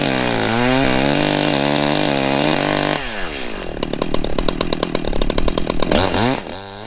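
A 60cc Echo CS-620PW chainsaw idles and revs, then bites into a tree trunk with a loud, choppy roar of pulsing engine bursts before easing off.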